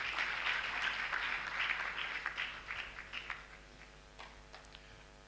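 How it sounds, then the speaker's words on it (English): Applause from an audience at an anniversary and induction ceremony, a broad wash of clapping that is loud at first and slowly fades, leaving a few scattered claps near the end, with no talk over it. "You can clap for yourself if you want to."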